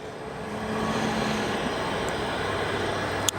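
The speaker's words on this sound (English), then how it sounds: "That aircraft should be arriving on runway 10 center here, with aircraft passing over" An aircraft passes over O'Hare Airport on approach to runway 10 center, a steady, broad, even roar that holds at a constant level throughout, with a brief click near the end.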